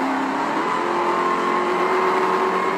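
A muscle car, a Dodge Charger Hellcat, GT500 or Scat Pack, accelerates hard in an illegal street race, its engine roaring loud and steady with a rising pitch throughout.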